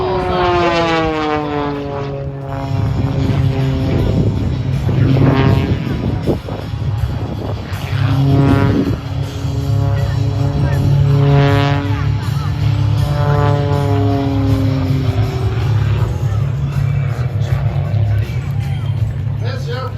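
A 355-horsepower aerobatic airplane weighing 1,350 pounds, with a roll rate over 420 degrees, roars through maneuvers. Its loud propeller drone climbs and falls in pitch as it passes, under a commentator's steady voice.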